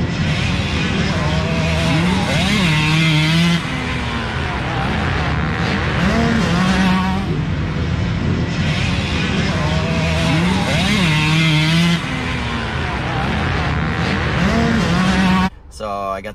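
A 1979 Honda CR125 two-stroke motocross bike races at Washougal MX among other 125s, its engine screaming loud and close with repeated rising revs and gear changes through the whole stretch.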